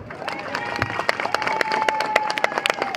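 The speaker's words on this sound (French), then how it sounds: "Les applaudissements ne sont pas à la hauteur de ma perfection scénique" An audience at a hotel show applauds, a crowd clapping with scattered sharp individual claps and some cheering, while a sustained tone runs underneath and the applause builds slightly toward the end.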